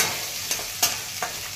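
Peanuts and asafoetida frying in hot oil for a leftover-rice dish, a constant close hiss with three quick scrapes of a spoon against the pan.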